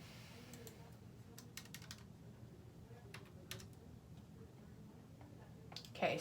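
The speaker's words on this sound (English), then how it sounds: "what I typed in order to get the articles to come up is just 9 stories and Salinger" Quiet clicks of a computer keyboard as a search is typed, irregular bursts of keystrokes at close range over a soft background hum, with a louder clack near the end.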